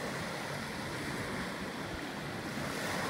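Waves washing onto a Michigan lake shore, a dense, even hiss of surf blended with wind buffeting the microphone, steady throughout without distinct breaks or voices.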